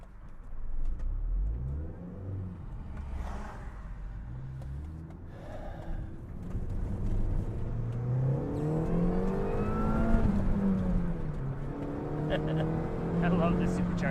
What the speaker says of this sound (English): I love this supercharger noise.